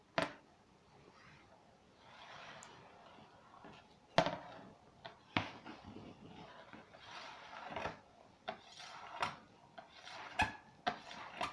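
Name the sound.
magnet rubbed along an iron object in one direction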